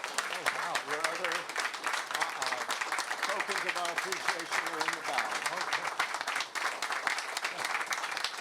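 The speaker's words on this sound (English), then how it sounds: "Now, would you clap?" Applause from a crowd gathered at an outdoor Memorial Day parade ceremony in the Town of Orange, Connecticut, steady clapping running the whole stretch while someone speaks over it on a public address system.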